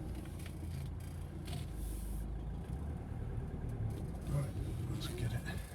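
A car engine left running, a steady low idle hum holding evenly throughout, close and continuous with no revving.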